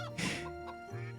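Chicken in the video game Stonehearth giving a short, faint burst of clucking, a couple of quick, soft bird calls over a quiet game backdrop.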